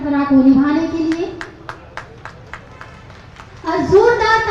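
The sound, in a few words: loud applause from an audience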